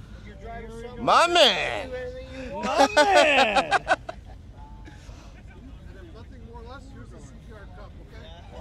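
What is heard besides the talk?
Mopar car engine started and revved at car meet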